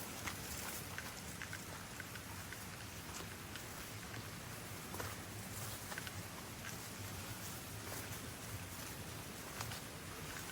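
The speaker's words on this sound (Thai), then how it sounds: "ที่บ้านเราฝนไม่ตกใช่ไหมอ่อนที่นี่ตกทุกวันนะ เนี่ยฝนตกบ่อยมากที่เนี่ย" Steady rain falls through a forest, a dense even hiss of drops on leaves and surfaces that holds for the whole stretch with no voices.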